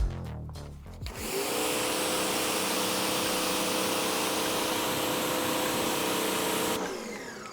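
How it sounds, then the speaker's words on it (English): A pressure washer's concentrated stream blasts dirt off a Harley-Davidson Street Glide motorcycle, a loud, steady hiss and motor drone that kicks in after a second and holds near and constant before tapering at the end. "I'm using the concentrated stream from the pressure washer to target the dirt and everything"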